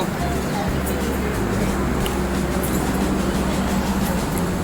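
The Sealdah–Bikaner Duronto Express, with new Humsafar coaches, pulls out of the station, a continuous low rumble and rattle heard from inside the carriage.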